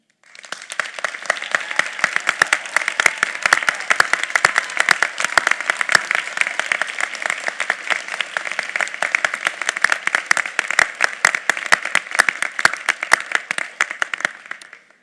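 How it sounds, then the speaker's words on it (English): A University of Houston graduation audience gives families a long, sustained round of applause. Many hands clap in a dense, even wash for nearly fifteen seconds with a few sharper individual claps poking through. "This is the moment to show your appreciation to them with your applause."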